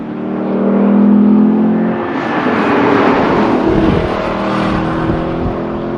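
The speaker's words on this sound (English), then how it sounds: "So I'm not using the paddle shifters, that's the transmission in auto doing that for me." Lexus LC 500 convertible with its automatic transmission downshifting, a loud engine note that swells and then drops into a rougher, busier roar with rushing wind, heard alone with no voices.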